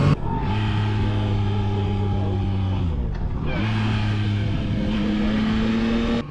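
A Yamaha Tracer 9 motorcycle with its CP3 three-cylinder engine revving up and down, holding a high rev, dropping off briefly mid-way, then rising again, loud and close with no voices.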